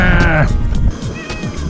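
A stray cat gives a short, rising meow up close at an outdoor seaside barbecue, followed by clattering and rustling handling noises.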